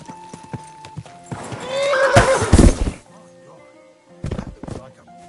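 In Kingdom Come, a horse gives a loud, close whinny amid clip-clopping hooves and thudding steps, with brief talk nearby.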